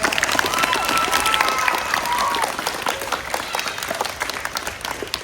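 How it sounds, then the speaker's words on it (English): A fourth grade class claps for visiting Saints football players, a dense burst of children's applause in a classroom that gradually thins out, with a few voices mixed in. "can we just give one more big round of applause"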